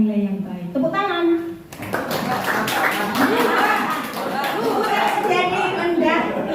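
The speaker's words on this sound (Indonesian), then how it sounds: "Tepuk tangan." A school class claps hands together on cue during a positive-culture lesson, a burst of clapping breaking out after a teacher's spoken prompt and continuing under chatter and talk.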